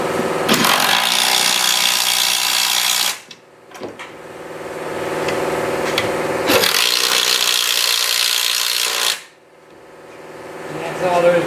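Pneumatic impact gun working on the strut bolts of a 2005 Ford Taurus, two long loud whirring bursts of about three and two and a half seconds with brief quiet gaps, close to the work.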